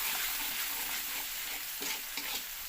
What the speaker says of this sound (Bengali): দিয়ে হালকা করে নাড়াচাড়া দিয়ে দেবো।